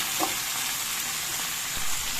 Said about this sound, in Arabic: هنايا الخضر تاعي راح نعطيهم تقليه خفيفه